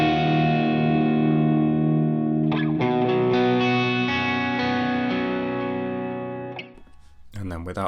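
Sustained overdriven electric guitar chords through a Fender Hammertone overdrive pedal with delay and reverb ring out with a lush echoing tail, loud and close, then fade into a brief new strum.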